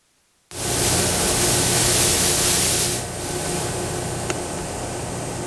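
A 15 x 24 inch Supertec plain CNC cylindrical grinder's workhead starts with a sudden broadband whoosh and runs steadily. The hiss eases to a quieter, even hum as the speed rises, with one faint tick near the end and no talk.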